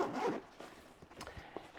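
A hardtop zipper on a Kiboko City Classic camera backpack being pulled open, a quick scratchy zip followed by a few short, close ticks and rasps.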